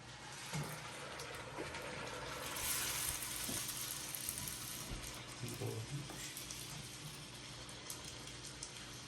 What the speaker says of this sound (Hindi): गोलगप्पे जो रेडी हो चुके हैं अब इनको करते हैं फ्राई